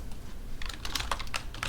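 Typing on a computer keyboard to enter a widget name: a quick run of light, close key clicks in an uneven rhythm, with no talking.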